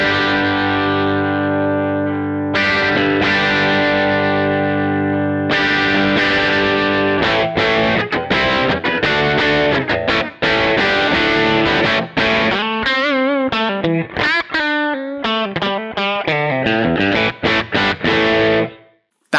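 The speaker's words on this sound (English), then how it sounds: "But what if I wanted kind of a blend of the two? I can literally find a point between these two presets that I like." Electric guitar through the Blue Cat Audio Axiom 2 amp plugin, set to a blend of Tweed and Plexi presets, loud and distorted with sustained chords giving way to quick picked riffs, with no talk.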